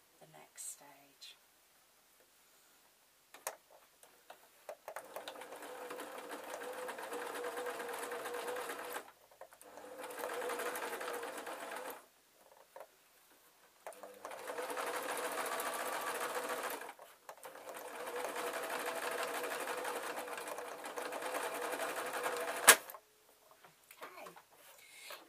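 A sewing machine stitches fur fabric for a spider soft toy in several bursts of steady rapid whirring separated by pauses, close and fairly quiet, with a soft voice speaking in the gaps.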